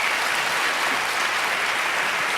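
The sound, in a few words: studio audience applause on a TV gala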